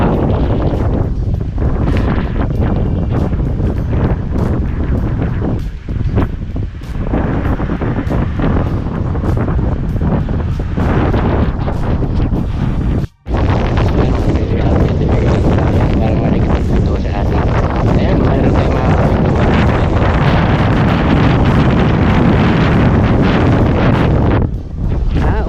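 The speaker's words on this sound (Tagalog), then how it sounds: "Lakas ng hangin." Strong wind roars steadily through swaying trees, loud and close with gusty buffeting on the microphone, and voices speak over it at times.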